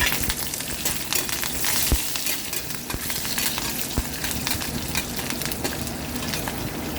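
Green chillies, dried red chillies and curry leaves sizzling in hot oil with fried dal, a loud continuous crackling sizzle up close, broken by occasional clinks of a spoon stirring the pan.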